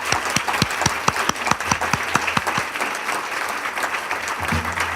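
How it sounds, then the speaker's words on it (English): A round of applause at a 2018 Chesapeake College service awards ceremony, with sharp, distinct hand claps up front over a fuller crowd clapping that fades to a softer patter toward the end. "I hope you'll join me in giving a round of applause for all that he's done for us this year."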